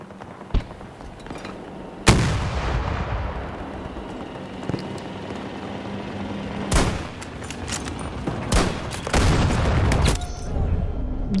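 Heavy booms and gunfire from a Battlefield 2042 battle, including tank fire, with several loud blasts at irregular intervals over a constant rumble of war noise.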